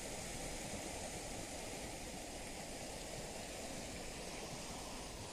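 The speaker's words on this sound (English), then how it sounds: "where this little stream trickles across the rocks and into the salt water" A small stream trickles across rocks into a sea pool on a Hebridean shore, a steady, close, broadband wash of running water that holds constant throughout with no voices.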